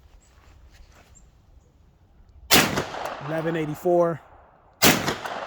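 Two sharp, loud rifle shots from a PTR with an 8.5-inch barrel at a gun range, a few seconds apart, each with a ringing tail; a person speaks briefly between them.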